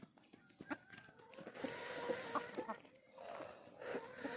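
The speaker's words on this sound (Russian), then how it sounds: "у меня тут и куры забияки есть" Hens, among them some aggressive ones, cluck and chatter in a coop, a string of close, irregular clucks and short calls with a voice murmuring faintly underneath.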